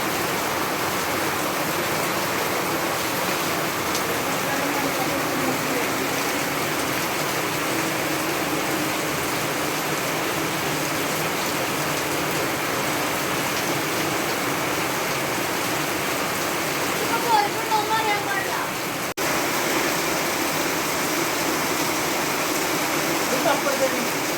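Steady rain hisses without pause, a dense, even wash of falling water with one brief faint clatter near the end.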